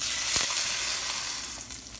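Fish laid skin down sears in a 12-inch Ozark Trail cast iron skillet, a steady hiss of frying that eases slightly toward the end, with no one talking.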